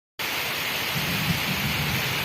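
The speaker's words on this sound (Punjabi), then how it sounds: "ਲੋ ਜੀ ਬਾਰਿਸ਼ ਆ ਗਈ ਜੀ ਬਹੁਤ ਹੀ ਜ਼ਾਲਮ ਕਿਸਮ ਕੀ" Heavy rain pours down in a Punjab village, a loud, dense, continuous roar of rain on surfaces with a deep rumble of thunder beneath it, starting abruptly after a moment of silence.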